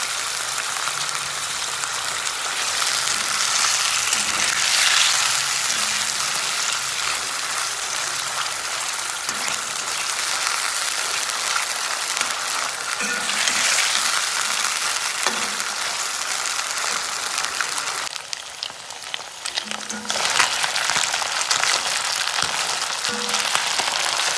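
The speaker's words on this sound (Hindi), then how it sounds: "तेल में हम डालेगा मछली का माथा डालेगा, उसको अच्छा से फ्राई करेगा, क्रिस्पी तक फ्राई करेगा।" A fish head fries in hot oil, giving a loud, steady, close sizzle and crackle that carries on without a break for over twenty seconds.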